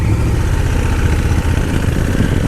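A Honda Africa Twin DCT motorcycle runs stationary with power fed to the rear wheel, giving a loud, close, steady engine rumble that holds throughout with little variation.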